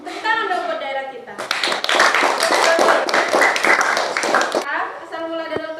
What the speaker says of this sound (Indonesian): Tepuk tangan dong buat daerah kita.